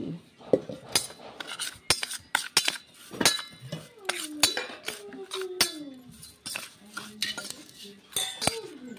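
Star fruit gets mixed in a bowl with sugar, salt, chopped coriander and a ripe chilli, with irregular clinks and scrapes of utensils against the dish and a faint voice in the background.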